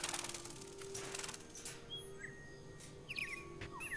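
Birds chirping in the video game Detroit: Become Human, short bright tweets scattered over a steady hum and faint indoor ambience, moderately quiet and without speech.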